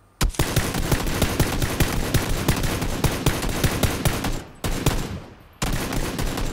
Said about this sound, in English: Concentrate your shots, Sam. Stop rapid firing.